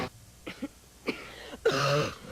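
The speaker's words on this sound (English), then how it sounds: "Cough waking you up?" A few short coughs and throat-clearing sounds, close to the microphone, ending in a longer, rougher cough.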